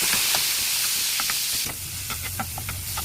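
Tomatoes tipped into sautéing ginger and garlic for ginisang bagoong na isda, a loud steady hissing sizzle that shifts into crackling pops and stirring sounds once they hit the pan.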